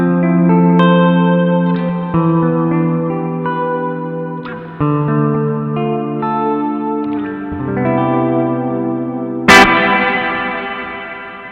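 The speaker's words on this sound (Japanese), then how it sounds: "リバーブにモジュレーションがかかってですね" Electric guitar through a BOSS RV-6 reverb pedal in modulate mode, sustained notes and chords blooming into a wide, shimmering chorus-like wash, loud and up close, with a sharp strum near the end.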